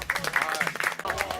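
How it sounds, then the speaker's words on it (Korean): Studio audience clapping in a Korean variety football show, a dense burst of applause running steadily through the short stretch, fairly close and loud, with voices mixed in. "자, 박수 한번 쳐"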